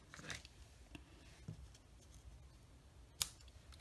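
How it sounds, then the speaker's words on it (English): A few quiet snips of scissors trimming ribbon for a handmade card bow, with one sharper, louder snip near the end, in a quiet room. "Get my scissors and give it just a tiny little trim."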